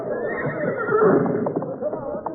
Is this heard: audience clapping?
no